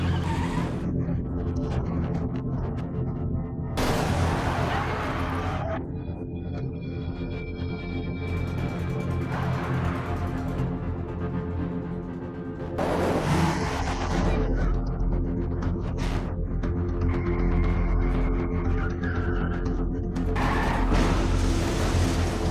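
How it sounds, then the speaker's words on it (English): Movie car chase ending in a collision that flips a car: bursts of tire squeal, skidding and crashing impacts surge over a tense, sustained orchestral score. "crosses paths with Ki-tae's car, leading to a chase until Dong-chul's car flips over after colliding with Ki-tae's car"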